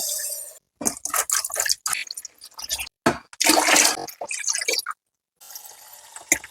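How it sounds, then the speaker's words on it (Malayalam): Water splashes and drips into homemade Kerala-style arrowroot powder, broken by wet, squishy stirring sounds and short silent pauses, close up in a home kitchen. "ഇനി ഇതിനകത്തിൽ നമുക്ക് വെള്ളം ഒഴിച്ച് വീണ്ടും ഇത് ഇളക്കി അടച്ചു വയ്ക്കണം"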